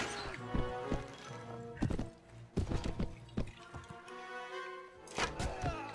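Horse hooves clopping and thudding in Mount & Blade: Warband, a medieval combat game, in uneven bursts amid clashing impacts, game music and a voice talking over the action.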